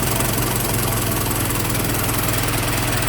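A 1915 Ford Model T Runabout roadster engine running throttled back, a loud steady close-up chugging drone with even rhythm and no voices.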